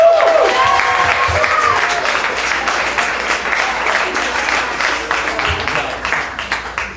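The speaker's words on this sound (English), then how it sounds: "Give it up for Megan Gruber" An audience applauds steadily after a stand-up comedy set, a dense, loud wash of clapping that slowly thins over seven seconds while a voice speaks over it at the start.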